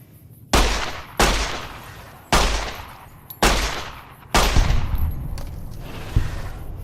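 Pistol fired in Fallout New Vegas: five loud, sharp shots spaced roughly a second apart, each with a decaying echo tail, followed by fainter trailing reports and clicks.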